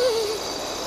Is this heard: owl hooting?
yes